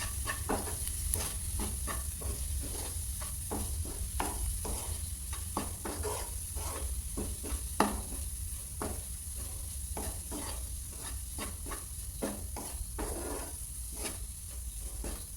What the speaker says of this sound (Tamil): இப்போ இதில் வந்து கொஞ்சமாக சோயா சாஸ் ஆட் பண்ணிவிட்டு நல்லா மிக்ஸ் பண்ணி விட்ருங்க.